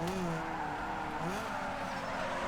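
A modded Peugeot 106 drifts in a Need for Speed Underground 2 race. The engine drone holds steady and close, with pitch sweeps and a tire squeal running through the whole stretch.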